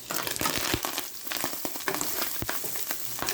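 Ground beef browning in a skillet with no added oil, cooking in its own fat: a steady crackling sizzle broken by sharp scraping and tapping as the meat is broken up, close and fairly loud.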